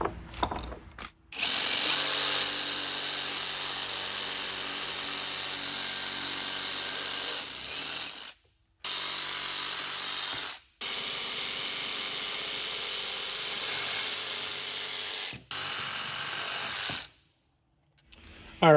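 A power tool trims the rubber bushing of a car control arm in a rebuild, running in several loud, sustained bursts with short silent pauses between them.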